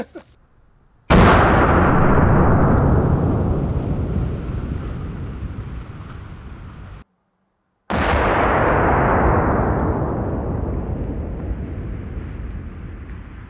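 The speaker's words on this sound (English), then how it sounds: "our 50 BMG hit right there. And of course, it blew right through." Two very loud .50 BMG rifle shots striking a bulletproof house wall at an outdoor shooting range, each a sharp blast followed by a long, rumbling decay, separated by a brief silence.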